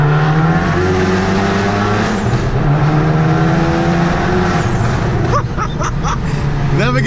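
A modified MK7 car revs hard inside a tunnel, its engine roaring loud and echoing off the walls with rising and falling pitch. Excited voices break in over the noise near the end.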